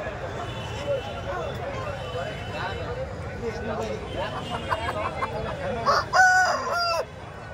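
At a Sankranti market selling roosters and hens, chickens cluck and chatter amid people talking, and a rooster lets out a loud, drawn-out crow near the end.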